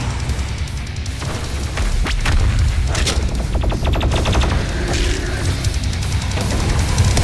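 The BFG 10,000 in Doom Eternal fires in a loud, constant barrage of rapid, booming shots that carries on through the whole stretch with no pause.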